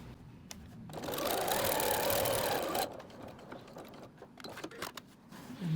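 A sewing machine stitches a folded fabric sock cuff band in one steady whirring run of about two seconds, followed by lighter clicks and handling sounds of the machine and fabric.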